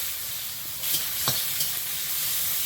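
Bay leaf, panch phoron and onion frying in hot oil in a wok give a loud, continuous close sizzle with a few brief stirring scrapes, no voices.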